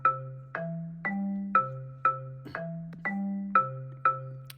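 Chrome Music Lab Song Maker plays back a simple synthesized melody, eight evenly spaced plucked notes over a low bass line, clean and quiet with no voices.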